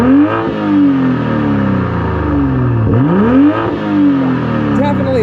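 A 2023 Toyota Supra with an ECU unlock and Stage 2 tune revs hard with its exhaust valves open, the engine note sweeping up and down through several loud, close throttle blips.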